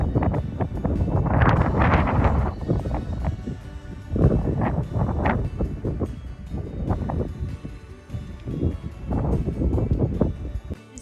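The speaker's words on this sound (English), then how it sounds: "And the wind is gusty, it's blowing me over." Gusty wind buffets the microphone on an exposed stretch of the Appalachian Trail, loud rushing surges rising and falling in waves over about eleven seconds.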